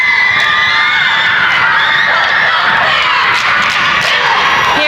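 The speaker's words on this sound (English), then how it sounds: "The young ladies from Flat Rock are here in the gym, and they're applauding" A cheerleading squad from Flat Rock cheers and applauds in a gym during a competitive cheer final, a loud, continuous wash of crowd shouting and whooping with no single voice standing out.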